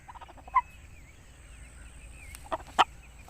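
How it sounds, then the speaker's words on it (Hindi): A large aseel rooster gives a few short, sharp calls, one early and two close together near the end, over a quiet background. "बड़े कद में ये मुर्गा है और फुर्ती इतनी है जैसे छोटे मुर्गों की होती है।"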